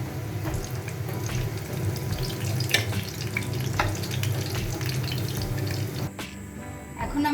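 Katla fish koftas fry in hot oil with a steady, dense sizzle and occasional stirring clinks, continuous throughout at close range, thinning briefly near the end.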